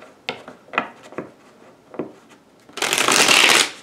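Tarot cards tap and rustle in a few short handling sounds, then a loud burst of riffle shuffling up close.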